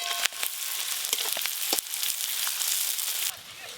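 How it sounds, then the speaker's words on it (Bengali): Chopped onion and slit green chilies fry in hot oil with a close, busy sizzle broken by sharp crackles and pops, easing off near the end. "পেঁয়াজ কুচিগুলো একটু ভালো করে ভাজা ভাজা হয়ে গেছে।"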